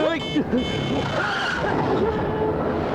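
A car skids on a road with tyre squeal and engine noise, loud and close, while voices talk over the scene.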